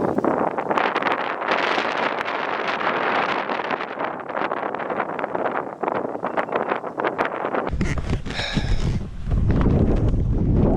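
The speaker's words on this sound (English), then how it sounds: "All I can say is holy crap, it's windy" Strong wind buffets an outdoor microphone in steady, roaring gusts before a model aircraft's first flight, growing harsher and heavier near the end.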